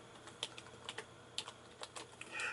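Keys clatter on an Apple iMac G4 keyboard from 2002 in a run of quick, irregular taps, close and fairly quiet with no voices over them.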